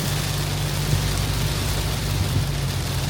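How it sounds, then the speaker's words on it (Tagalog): Heavy rain pours in a dense, constant hiss with a low rumbling undertone, loud and close, steady throughout without voices. "Grabe, ulan, lumakas."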